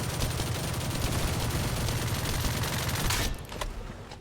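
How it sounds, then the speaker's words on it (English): A continuous, dense volley from the Albion cavalry gun in The First Descendant rattles loud and close for about three seconds, then breaks off with a few trailing shots and impacts. "Albion cavalry gun is doing work"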